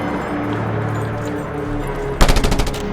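Automatic gunfire in the video game Just Cause 2, a sudden loud burst of rapid shots near the end following steady ambient game noise.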